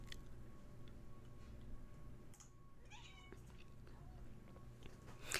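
A cat gives a short, faint meow over a quiet room with a steady background hum and soft ticking.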